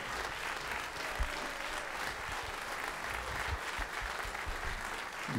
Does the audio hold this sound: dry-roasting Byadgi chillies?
no